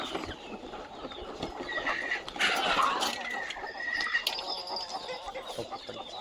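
Native broody hens cluck in a dense, overlapping chorus of several birds, steady and fairly close, with no voices.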